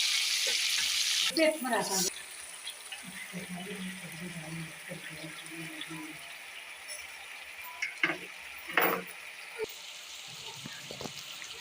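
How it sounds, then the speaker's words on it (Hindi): Chicken drumstick pieces sizzle in hot cooking oil in a non-stick pot, a steady bright frying hiss with a few louder spits and crackles as pieces go in; faint voice-like murmurs appear briefly. "तेल गर्म होने के बाद हम इसमें बारी बारी एक एक पीसेस को डालेंगे।"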